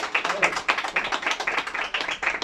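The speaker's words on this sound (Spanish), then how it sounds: "Y fuerte el aplauso, que se escuche claro de sí" Steady clapping from a crowd at a Colombian youth mariachi band's birthday show, close and continuous, with dense irregular claps and a voice faintly mixed in.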